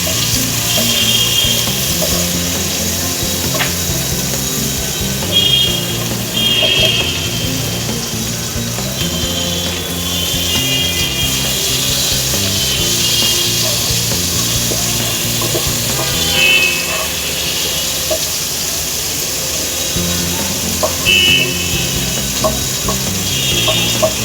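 Butter melting in a pan over low heat while cooking vegetable soup, giving a steady soft sizzle and crackle with occasional small pops, continuous and close, with no talking.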